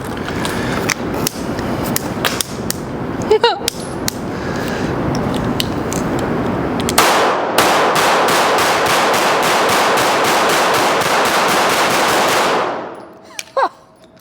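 Lucky Devil custom pistol fired outdoors, first in scattered sharp shots and then a long rapid-fire burst of many rounds lasting several seconds before stopping abruptly, loud and close.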